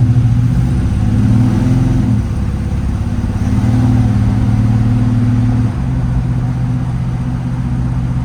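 A Chevrolet C10 truck cruising down a dirt road, its mid-range engine droning steadily and loud throughout, with slight shifts in pitch as it rolls along and no voices.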